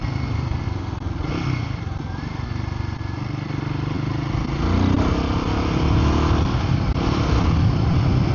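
A Royal Enfield Guerrilla 450 liquid-cooled motorcycle is ridden with a continuous mid-pitched engine drone and wind rush, swelling louder as it pulls harder near the middle; no talking.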